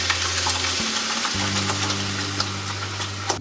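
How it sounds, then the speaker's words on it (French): Spinach mixture for palak paneer sizzles loudly as it hits hot frying spices in a pan, a steady dense crackle throughout with a low hum underneath. "Puis maintenant on va ajouter notre mélange aux épinards."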